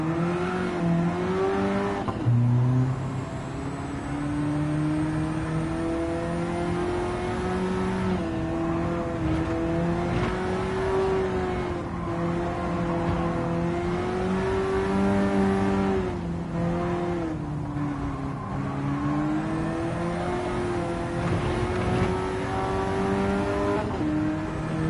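An AMG car in Gran Turismo 7 revs and pulls through gear changes, its engine note climbing and dropping repeatedly in a sustained, loud whine with brief shift dips.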